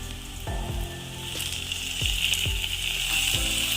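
Onions sautéing in oil in a pan for a masala curry, a steady sizzle with soft stirring scrapes and occasional low knocks of the spoon against the pan, close and fairly even throughout.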